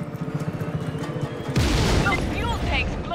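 Fuel tanks blow up in the video game Just Cause 3 with a sudden loud, broad roar of explosion, preceded by rhythmic rumbling and followed by sustained crackling debris and whooshing effects.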